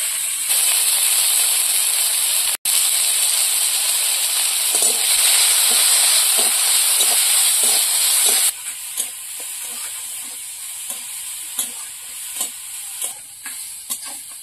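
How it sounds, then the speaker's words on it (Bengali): Prawns fry in hot oil with a loud, close, hissing sizzle that drops in intensity partway, followed by a run of sputtering pops and stirring taps. "এবার চাল কুমড়ো ঘন্টের জন্য আমি চিংড়ি মাছগুলো ভেজে নেব।"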